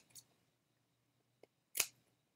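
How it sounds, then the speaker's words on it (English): Scissors snip a small banner tail from paper for a handmade card, a few quiet, close, isolated cuts with one sharper snip at the end, surrounded by near silence. "cut a little banner tail right here"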